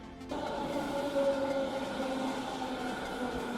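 A Moscow Metro train runs with a steady, rumbling roar and a sustained tonal whine that begins abruptly and continues loud and unbroken, a single sustained whine rising briefly.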